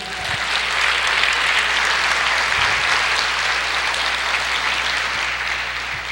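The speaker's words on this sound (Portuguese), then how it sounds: "Você pode aplaudir o Senhor?" Church congregation applauding during a sermon, a loud, dense and continuous wave of clapping from a large crowd, steady throughout with no voices over it.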